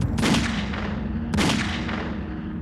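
Two loud gunshots about a second apart, each a sharp blast with a long echoing decay.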